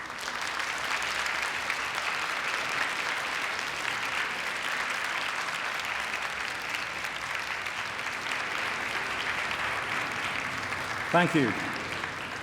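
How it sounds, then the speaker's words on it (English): Audience at a University of Manchester graduation ceremony applauding, a broad, continuous roar of clapping from a large hall that holds evenly, with a brief spoken word near the end. "And now give them a round of applause"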